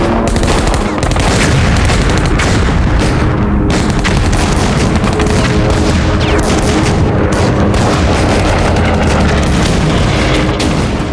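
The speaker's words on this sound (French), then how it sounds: "L'explosion déclenche un incendie d'enfer sur le Kaga." Continuous, dense roar of explosions and blasts from American dive bombers striking the Japanese aircraft carrier Kaga, a loud, unbroken wall of booming and crackling fire with no pauses.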